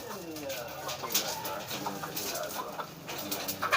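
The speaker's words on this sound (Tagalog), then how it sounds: "Manok." A chicken clucks and coos nearby in a short, uneven series, fairly quiet against background noise while voices may be heard.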